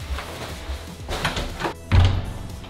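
A storage-room door slams shut with one heavy, close thud after a stretch of quieter room noise and shuffling.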